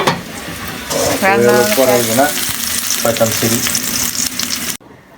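Curry frying and sizzling in a pan at home, a steady hiss broken by stirring scrapes, with a voice talking over it and the sound cutting off abruptly near the end.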